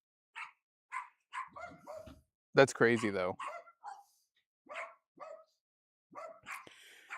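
Several dogs bark outdoors in short, sharp bursts that are fairly distant and spaced out, with a person talking briefly in between.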